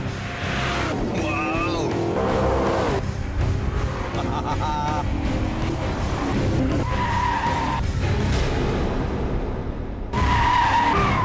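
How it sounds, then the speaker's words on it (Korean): Maserati GranTurismo Sport in sport mode, its engine exhaust growling loudly and continuously as the car is driven hard, with pitch rising and falling through gear changes and tire noise mixed in. "스포츠 버튼을 누르면 달라진 배기음을 시작으로 거친 모습으로 완전히 돌변하죠."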